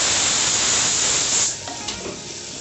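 Onions and tomatoes sauté in a clay pot with a broad, steady hiss that drops to a quieter sizzle partway through, with a faint scrape near the end.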